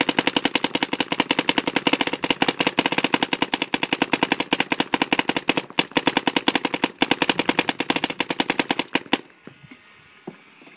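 A 2012 Alien Invasion paintball gun firing in rapid, steady full-auto bursts of sharp pops, close and loud for about nine seconds before stopping abruptly.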